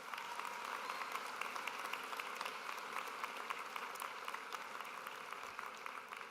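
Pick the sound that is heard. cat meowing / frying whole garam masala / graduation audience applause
graduation audience applause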